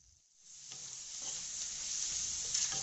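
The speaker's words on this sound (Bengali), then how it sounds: "এবার সব কিছু দিয়ে ভালো করে সব নাড়িয়ে নিলাম।" Chicken pieces with salt, Kashmiri chili powder and turmeric stirred in a hot pan, a sizzle that swells in after a brief quiet start and holds steady, with soft scraping of the stirring, no voices.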